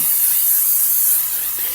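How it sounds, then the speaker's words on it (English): Pam cooking spray hisses steadily from an aerosol can onto a whole brined chicken before smoking, a continuous close, fairly loud spray with no pauses. "Now I'm going to spray it down with Pam."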